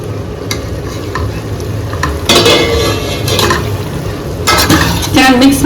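Chicken tossed with biryani masala and garam masala in a pan sizzles loudly and continuously, with a spoon scraping and knocking against the metal in uneven strokes close by.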